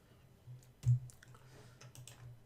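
A few sparse keystrokes tap on a computer keyboard, quiet and close, with one louder thump among the soft clicks in a hushed room.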